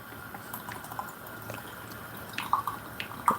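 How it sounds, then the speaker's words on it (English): Cider vinegar trickles into a homemade hot sauce as a faint, steady dribble, with a couple of sharper drips near the end. "Let's pour some vinegar on this."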